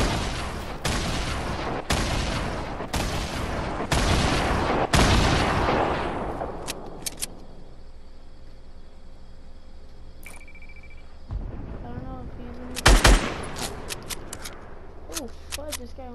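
Five loud, evenly spaced gunshots, sniper fire in a shooter game, crack out one after another, then fade into quieter game ambience before a few more sharp shots near the end, with voices talking.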